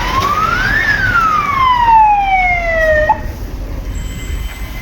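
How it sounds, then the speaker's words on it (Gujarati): An ambulance siren sounds on a potholed road in Velanja, Surat: one loud, close wail that rises and then slowly falls before cutting off, leaving a low traffic rumble. "આ જુઓ 25 મિનિટે તો એમ્બ્યુલન્સ આવી"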